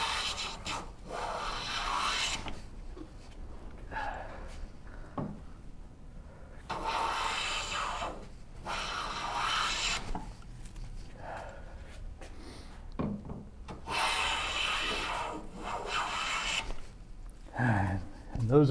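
A hand plane takes full strokes along a board for the Shaker Enfield cabinet, peeling off wood shavings as a series of close, rasping swishes separated by short pauses.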